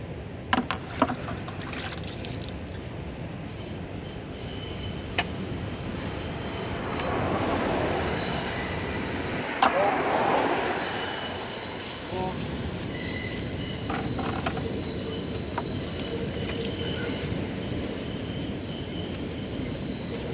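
Pressure washer spray blasting a car wheel rim during a mobile auto detailing job, a steady broad hiss that swells louder in the middle and then settles, with no talk.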